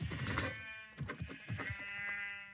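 Sheep bleating in the video game Minecraft, several wavering bleats in quick succession, fairly faint and with no voices over them.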